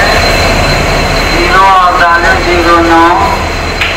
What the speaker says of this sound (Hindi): आवाज़ बहुत कर रही है ट्रेन।